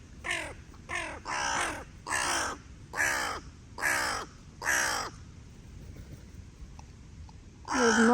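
Crows cawing in a series of about seven loud, harsh calls in quick succession near the listener, followed by a quiet pause and another caw at the end.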